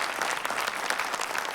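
A brief burst of audience clapping, many hands patting in a dense, even patter at moderate volume, with no voices over it.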